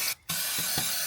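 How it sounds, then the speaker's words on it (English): Brake cleaner sprays from an aerosol can onto an oily intercooler pipe in the engine bay of a Nissan Navara NP300, a loud continuous hiss broken by one brief pause and a few short sputters. "I'm going to spray some brake cleaner around here to get rid of all the oil"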